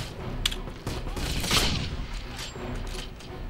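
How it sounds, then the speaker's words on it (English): Machine gun fire in a World War II shooter game, Wolfenstein (2009), heard as sharp bursts and a thick stretch of rattling shots with a loud peak midway, mixed with other game noise and a voice. "Oh god, you got a machine gun."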